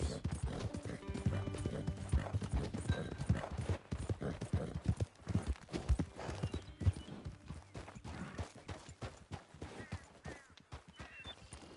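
In Red Dead Redemption 2, a horse trots with rapid, close clip-clop hoofbeats and an occasional whinny, loud at first and turning more sparse and punchy toward the end.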